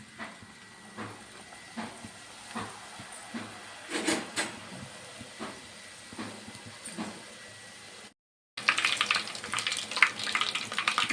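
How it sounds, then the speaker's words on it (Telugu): Puris deep frying in a pan of hot oil, a soft hiss with repeated bubbling bursts, then after a short gap a louder, denser crackling sizzle close by. "డీప్ ఫ్రైకి సరిపడా ఆయిల్లో డీప్ ఫ్రై చేసుకుందామండి"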